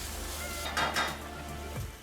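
Paprika and spices being mixed in a bowl with onions, garlic, oil, cumin and black pepper: two soft clinks and scrapes of a utensil against the bowl, quiet and close, with no talking.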